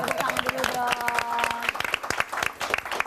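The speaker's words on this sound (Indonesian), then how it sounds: "Tepuk tangan dulu dong" An audience in a talk-show segment on young people and financial freedom breaks into lively applause with distinct hand claps, while a voice talks over the clapping at the start.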